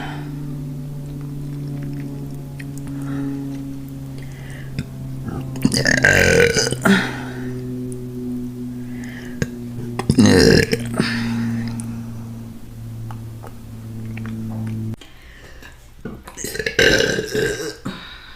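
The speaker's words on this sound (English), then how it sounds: "Delayed burp." During a mukbang eating session, a woman lets out several loud, drawn-out burps close to the microphone, spaced apart over a steady low background hum.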